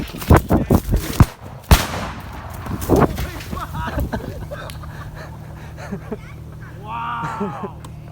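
A makeshift explosion set off outdoors, with sharp loud bangs and crackling bursts early on, then a rumbling tail while people shout and talk excitedly.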